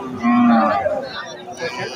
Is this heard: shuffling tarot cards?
no